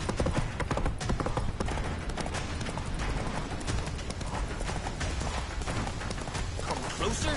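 Roach, a horse in The Witcher 3, gallops with steady rapid hoofbeats under a dense game soundscape, with voices speaking over the running.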